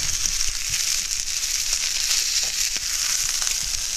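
A 2 lb steak sizzling loudly in a hot pan as it is flipped, a steady dense crackle and hiss throughout with scattered pops and no talk.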